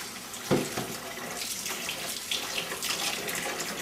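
Wheat grain being washed under a running tap for raw kibbeh, a close, steady splash of water with small sloshing bursts and no voices.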